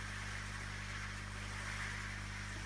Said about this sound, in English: I've got an old power washer that was stored away here